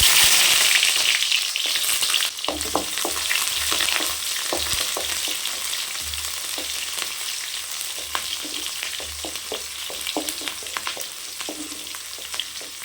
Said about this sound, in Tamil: கடையை வச்சு எண்ணெய் சேர்த்துக்கலாம் கடுகு உளுத்தம்பருக்கு சேர்த்துக்கலாம் வெங்காயம் சேர்த்துக்கலாம்